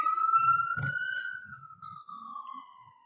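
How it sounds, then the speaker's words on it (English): A wailing emergency siren sweeps slowly downward in pitch, fairly distant, with faint low murmurs and a brief thump underneath. "sirens"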